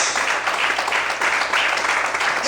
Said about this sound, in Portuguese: Quantos podem glorificar e aplaudir ao Senhor essa noite?